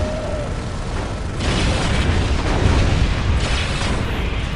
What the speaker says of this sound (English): That's a nice bomb there.